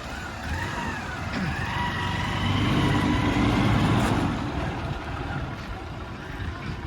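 A bike trolley's small engine runs steadily while reversing, a continuous motor drone with a rising, swelling whine near the middle, heard close up without talk.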